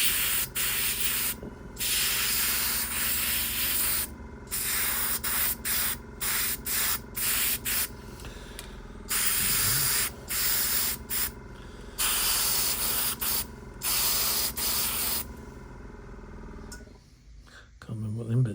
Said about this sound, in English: So when I start spraying things, spray it on the cloth first